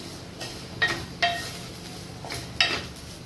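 Sev vermicelli roasting in ghee for a festival offering is stirred in a pan, with four brief close spatula scrapes and clinks over a soft background.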